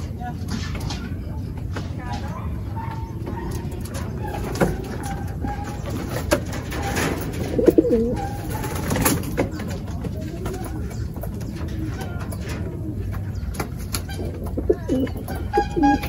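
Racing pigeons coo repeatedly at close range, soft throaty calls layered over a constant low rumble of wind or traffic, with some voices talking nearby at the end of a 40 km to 80 km pigeon race.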